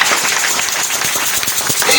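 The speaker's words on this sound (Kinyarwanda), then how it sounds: "dukomere Imana yacu amashyi menshi cyane." Worshippers applaud together during a church sermon. Many hands clap in a continuous, fairly loud roar, with some voices mixed into the sound.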